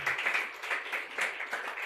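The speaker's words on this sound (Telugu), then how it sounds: "చప్పట్లు కొట్టండి మాటను." A congregation claps at a Sunday church service, a quick run of rhythmic handclaps in uneven bursts, moderately distant and fairly soft.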